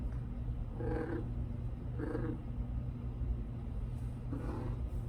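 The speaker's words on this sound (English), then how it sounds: "my cat is in heat and she obviously wants the camera to see her" A female cat in heat gives three drawn-out, wavering yowls spaced a second or more apart, close by over a steady low indoor rumble, with no one speaking.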